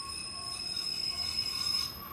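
A Class 150 diesel train, unit 150.266, passing through Dawlish Warren station, with a steady rolling rumble and a thin high wheel squeal ringing over it, building slightly as it goes by.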